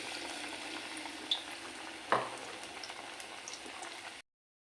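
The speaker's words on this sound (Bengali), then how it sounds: "আমি চাল কুমড়ো চপ ভাজছি।" Ash gourd fritters frying in hot oil, a continuous close sizzle with a couple of sharp spits and pops, heard alone without talk.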